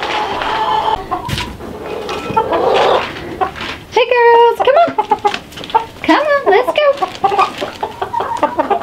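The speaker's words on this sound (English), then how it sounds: "We have one, we have two roosters actually." Chickens cluck steadily close by, with a rooster's harsh, stretched calls breaking through; a person speaks briefly amid the flock noise.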